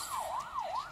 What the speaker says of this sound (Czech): Proč tady houká siréna?